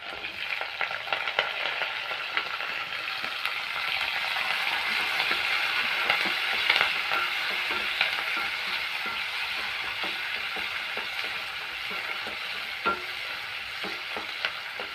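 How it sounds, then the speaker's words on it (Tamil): Garlic, onion and curry leaves fry steadily in a pan for tamarind okra curry, a dense continuous sizzle with occasional clicks and scrapes of stirring throughout. "நல்லா வதங்கட்டும் ஃப்ரெண்ட்ஸ்"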